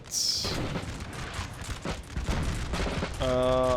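Infantry volley fire in Napoleon Total War, massed musket shots crackling in bursts across a battlefield, mixed with game sounds and brief voices.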